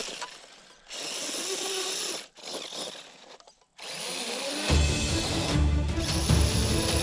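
An RC car run on a 2S battery, with its motor smoking, gives off a whirring, ratcheting grind from the servo and motor as it drives. The noise comes in loud surges broken by short pauses.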